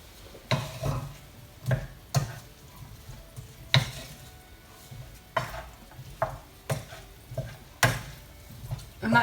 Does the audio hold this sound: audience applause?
no